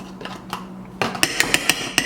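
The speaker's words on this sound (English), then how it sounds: "Mix that all in there." A spoon mixes lemon juice and chopped basil in a bowl, giving a quick run of sharp clinks and taps, about seven close knocks in two seconds, sparse at first and then rapid.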